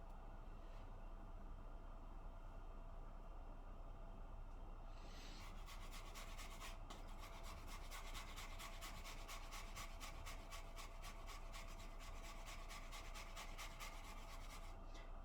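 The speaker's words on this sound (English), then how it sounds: "take our apple and then grate it right over our bowl" An apple is grated over a bowl. After a faint start, rhythmic rasping strokes run against the grater, quiet and close, over a low background hum.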